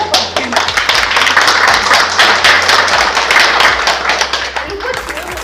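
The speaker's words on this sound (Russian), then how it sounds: "Давайте еще раз похлопаем." Audience applause for a Siberian poetess at a literary evening, dense continuous clapping from many hands throughout, close and loud with a steady low hum underneath.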